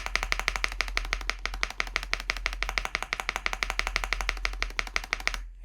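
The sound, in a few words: sliding across ND75 mechanical keyboard spacebar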